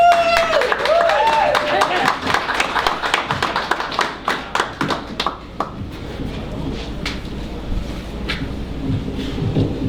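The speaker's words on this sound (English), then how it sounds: "So please give a huge round of applause for Jason Millers." An audience at a Bridgeport gathering of groups criticizing PSEG fossil fuel plans bursts into loud applause that thins out and fades after about five seconds, with voices underneath.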